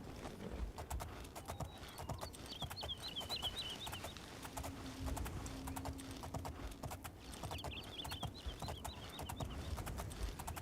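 Horse hooves in the video game Oblivion, a steady rapid clip-clop of galloping or trotting that continues throughout, with faint birdsong chirps and a brief low hum in the background.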